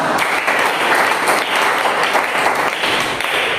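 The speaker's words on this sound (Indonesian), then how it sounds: "tepuk tangan kita semua" Indonesian classroom of students claps together at the end of a lesson, a loud, dense and continuous round of applause with no talking over it.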